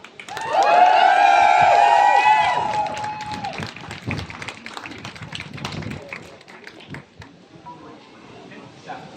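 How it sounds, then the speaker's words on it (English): A crowd at a trans rights protest in Leicester claps and cheers for the final speaker; loud cheering and whooping voices open, then scattered clapping continues and fades toward the end. "give a big round of applause for our last speaker, Emmeline"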